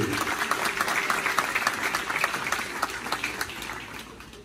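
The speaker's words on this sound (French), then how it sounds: "Je vous demande, mesdames, messieurs, d'applaudir chaudement John S. Mexil." Warm, sustained applause from an audience at a university graduation ceremony in northern Haiti, dense crowd clapping at close range that slowly thins toward the end, with no speech over it.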